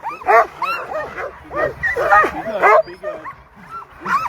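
Sled dogs bark, yip and whimper in an excited chorus at the start of the Knik 100 mile sled dog race, close and continuous, with handlers' voices talking over the noise.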